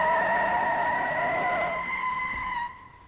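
Tyres skidding as a car chases a red sports car, a sustained screeching whine held for a few seconds before cutting off, loud and close with engine noise beneath.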